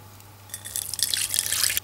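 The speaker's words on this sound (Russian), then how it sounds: "Я опускаю в яму алюминиевый казан и наливаю в него воду." Water poured into an aluminium cauldron set down in a heated tandoor pit, a brief trickling and splashing that begins faint and swells into a steady bright pour over about a second.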